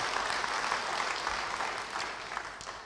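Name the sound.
congregation applause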